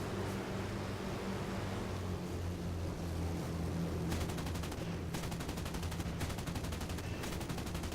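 Twin 20 mm aircraft cannons fire in long rapid bursts in War Thunder, the rattling volleys breaking out midway over a continuous engine drone and wind rush of an ME264 in flight.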